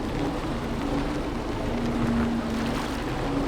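A heavy MTZ-892.2 tractor engine with a plough, in the game Farming Simulator 17, drones steadily at a low pitch over a constant rumble of churning, sloshing noise as it drives through a swamp.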